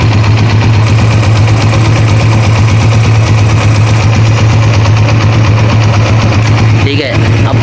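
Honda CG125 motorcycle engine idling with a cam gear fault, a steady loud low throb with rattling mechanical clatter running throughout, briefly dipping near the end.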